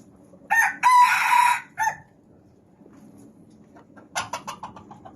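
Roosters crow in two separate bursts. The first is a loud, long, drawn-out crow near the start. The second is a shorter, broken series of calls near the end. Both sound close, with a low background hum and quiet gaps between them.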